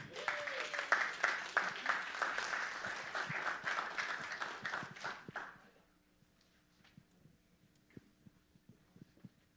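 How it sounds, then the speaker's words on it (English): A room of seminar attendees at a marriage event breaks into dense applause that runs strong for about five seconds, then fades out, leaving scattered faint taps and knocks in a quiet room. "So let's give them a round of applause."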